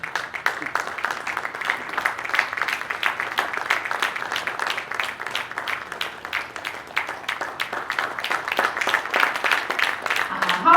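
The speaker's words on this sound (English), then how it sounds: "Please give her a round of applause as she comes on" An audience applauds Mmanti Umoh coming on stage, a sustained, even wash of many hands clapping at moderate volume for the whole stretch.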